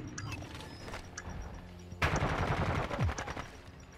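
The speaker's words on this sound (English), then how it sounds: "I literally shot him." Rapid bursts of automatic gunfire in a Call of Duty: Modern Warfare II Search and Destroy match, scattered shots early, then a loud dense volley of rattling fire from the two-second mark onward, with game effects underneath.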